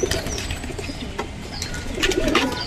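Pigeons coo in a flying loft where birds have been kept for forty years, soft repeated calls with a brief flutter of wings, steady and fairly close against a busy background.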